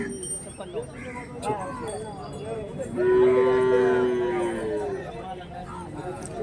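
At a cattle market in Hirapur, a cow lets out one long, low moo, loud and close, after a stretch of faint voices and background noise.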